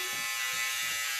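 Electric clippers shave a head for a cancer charity fundraiser, giving a steady, continuous buzzing hum that stays close and even throughout with no talking.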